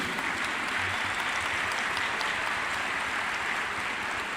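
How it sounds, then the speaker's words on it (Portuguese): Church congregation applauding together, a steady wash of many hands clapping at a distance, even and sustained throughout with no talk over it. "Pode aplaudir, meus irmãos"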